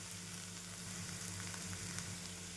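Bitter gourd sizzles steadily as it is stir-fried in a pan, a faint, continuous crackle of frying with no talking over it.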